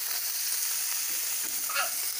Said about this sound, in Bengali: মাছটা দেখুন আমি হালকা করে মনে হচ্ছে ভাজা হয়ে এসছে